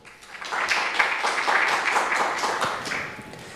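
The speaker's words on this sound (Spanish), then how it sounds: "Que démosle un gran aplauso a Edward." An audience at the SciPyLA 2019 scientific conference applauds a speaker with a steady, dense patter of clapping that swells and then fades.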